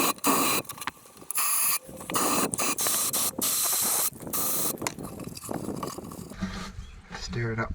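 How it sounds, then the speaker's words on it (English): Degreaser and brake cleaner are sprayed onto parts of an International BTD6 bulldozer in loud, close hissing bursts that start and stop repeatedly, with short gaps and a voice speaking nearby. "degreaser and some brake clean or something like that and give it a good squirt down"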